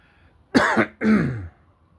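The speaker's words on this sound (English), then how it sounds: "Still got that cough." Two harsh, throaty coughs in quick succession, close and fairly loud, with quiet before and after.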